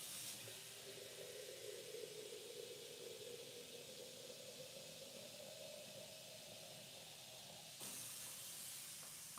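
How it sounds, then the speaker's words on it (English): Tap water pours steadily into a cooking pot, making a continuous hiss and splash that shifts slightly in tone as the pot fills, heard at low level throughout. "So let's get this pot of water going."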